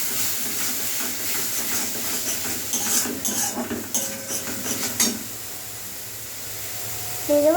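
Spices with cumin and coriander being stirred with a little water in a cooking pot for khichuri, a hissing, scraping mix of utensil clinks and sizzle, loud and close for about five seconds before quieting.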